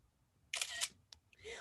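A camera shutter fires once as a group photo is taken of online negotiation-competition participants at a law school banquet: a short bright mechanical burst, followed by a couple of fainter clicks.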